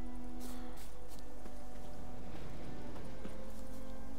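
Horse hooves clip-clop at a slow walk in The Witcher 3, a steady soft rhythm of hoofbeats over constant game ambience and music, with no talking.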